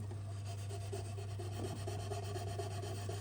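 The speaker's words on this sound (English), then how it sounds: "I'm just rubbing the neck down," The neck of a handmade 15-inch viola being rubbed down by hand to strip the finish, a steady, faint, rhythmic rasping over a constant low hum, with no talking.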